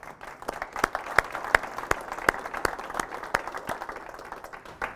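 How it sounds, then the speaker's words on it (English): Applause from a church audience, a thin patter of many hands with several sharp, louder individual claps standing out near the listener, steady for about five seconds. "I think we should give them a round of applause"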